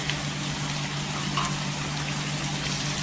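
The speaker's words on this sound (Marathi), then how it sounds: "टोमॅटो पण तेलावर छान असं परतायचं" Tomatoes sautéing in hot oil over softened onions for a Maharashtrian potato rassa curry, giving a steady close sizzle and crackle that runs without a break and with no talk.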